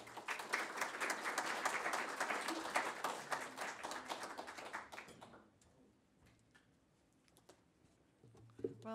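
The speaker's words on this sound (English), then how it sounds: "Let's welcome her with a warm applause." An audience at a university lecture on Mexico and migration applauds warmly, a dense burst of clapping that fades out after about five seconds, leaving scattered taps and faint room noise before a voice begins.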